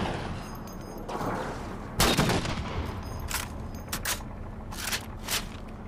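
Gunshots in the Halo 4 video game, a few sharp game-weapon blasts, the strongest at about two seconds, then several more spaced shots over a steady background of game ambience.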